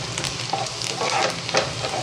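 Fenugreek leaves stir-fry in a hot pan, a steady sizzle broken by quick scraping strokes of the spatula, close and fairly loud with no voices.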